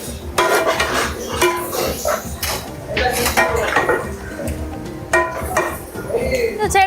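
Pepper and about eighty chicken pieces tossed together in a pot, with repeated metallic scraping and clinking of a ladle against the pot running the whole time, a voice talking over it.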